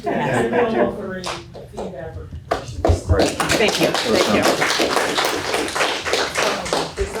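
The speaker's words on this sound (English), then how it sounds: "we're clapping" Attendees at a school district board meeting break into brief clapping after thanking presenters, with a few sharp claps at first, then a steadier patter, mixed with nearby talking and a chuckle.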